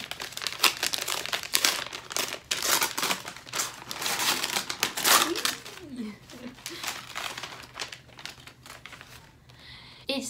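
Gift book being unwrapped from crinkly packaging, with bursts of close crackling and rustling that come and go over several seconds, mixed with soft handling noises and a brief voice.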